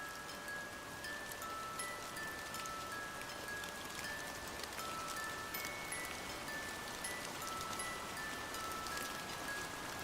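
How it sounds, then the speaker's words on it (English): Rain pouring at night, a faint, steady hiss of dense drops with no change over ten seconds and no talk. "As it starts to pour, the dog stays put."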